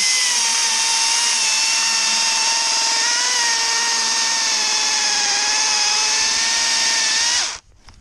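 A chainsaw runs loud and steady at high revs for about seven seconds while cutting a felling notch in a tree trunk, then cuts off abruptly.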